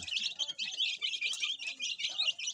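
Young Rhode Island Red heritage chicks, about two weeks old, chirp continuously in a close, busy chorus of high, rapid peeps with no other sound.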